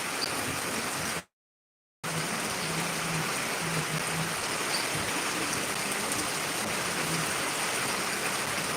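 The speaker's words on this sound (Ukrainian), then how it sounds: "Ну, з криші як біжить." Rainwater runs off a roof in a steady, rushing stream, a continuous close splashing wash that cuts out briefly once, then resumes unchanged.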